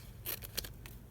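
Scissors snipping through wax paper in a craft project, a few short crisp cuts close by over a low background hum.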